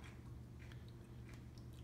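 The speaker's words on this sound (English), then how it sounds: "Crunchy, but a little bit softer when you first bite into it." Crunchy biting into a dill pickle during a Claussen versus Vlasic taste comparison; a few close, soft crisp bites and chewing sounds, faint and continuous over a low steady hum, with no talking.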